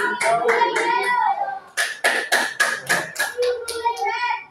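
Students in a classroom clap in a quick series of sharp, close bursts, with children's voices chattering over and between the claps.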